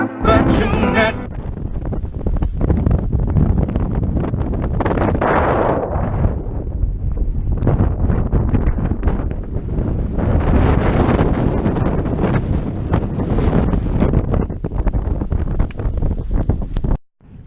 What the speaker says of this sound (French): il y a encore du vent aujourd'hui